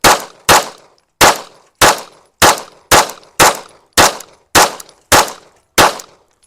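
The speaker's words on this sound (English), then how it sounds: "Springfield Prodigy is going to be the bottom target. As fast as I can shoot it." Rapid pistol fire from a Springfield Prodigy shot with iron sights: eleven loud, sharp shots ring out close in a quick, slightly uneven rhythm, each trailing a short echo.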